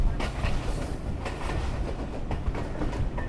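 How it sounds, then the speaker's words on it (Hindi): The Sialkot Express passenger train rumbles along the rails past green fields on the Lahore to Sialkot route, with a steady close roar and faint rhythmic clatter of wheels. "सियालकोट एक्सप्रेस पेजो वाली रेलवे स्टेशन की तरफ बढ़े चली जा रही है।"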